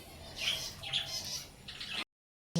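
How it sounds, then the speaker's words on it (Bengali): A bird coming outside to eat gives a few short, sharp squawking calls close by over a quiet background, then the sound cuts out briefly. "বাইরের পাখিটা এসে খাচ্ছে"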